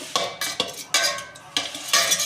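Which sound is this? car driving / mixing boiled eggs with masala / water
mixing boiled eggs with masala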